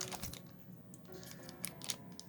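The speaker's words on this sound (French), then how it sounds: "Bon, allez, ciseaux." Scissors cut open Pokemon Peerless Fighters S5a card packaging, a series of quiet, close, crisp snips and crinkles spread irregularly across the moment.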